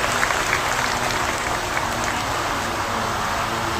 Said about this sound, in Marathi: एकदा जोरदार टाळ्या वाजवून या लोगोच्या अनावरणाचं आपण स्वागत करूया